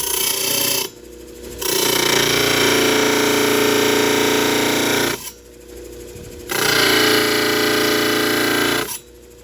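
A Diamond Pacific Genie trim saw grinds loudly through hard material in two long continuous cuts, each a steady harsh buzz, broken by brief quieter gaps.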